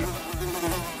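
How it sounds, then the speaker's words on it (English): Fly buzzing close by, a continuous droning whine with a slight wavering pulse, steady and fairly loud throughout. "Freeze, you buzzing monstrosity! Let's kill that fly!"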